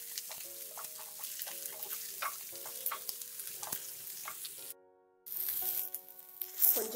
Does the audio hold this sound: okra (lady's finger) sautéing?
yes